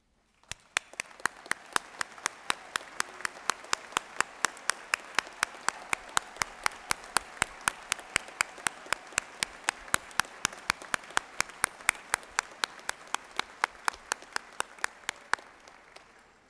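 A commencement crowd at a university law school gives steady applause for the graduates' parents, with a loud, regular beat of rhythmic claps over a dense wash of clapping that continues for a long stretch before tapering off.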